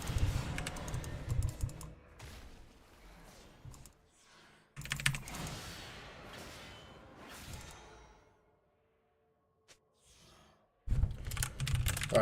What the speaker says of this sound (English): these guys need to stop getting busy with the typing keyboard